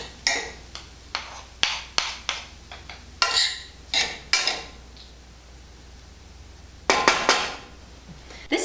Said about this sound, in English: I'm just mixing this all up